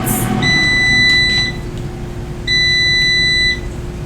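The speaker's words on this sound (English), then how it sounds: "It's gonna beep in about a few seconds." An air fryer beeps at the end of cooking chicken wings, sounding two sustained electronic tones about a second long each, separated by a short gap, loud and close over a steady background hum.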